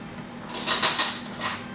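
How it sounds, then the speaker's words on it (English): A metal spoon scrapes and clinks around a bowl while stirring melted chocolate frosting, making a few close, brisk strokes. "just stir it up real good so that the chocolate starts to melt and starts to blend"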